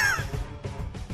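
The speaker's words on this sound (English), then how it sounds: "Bird!" A bird caws in the video game Bastard Bonds, a short harsh call up front followed by a couple of raspy, flapping-like bursts, loud and close with no talk.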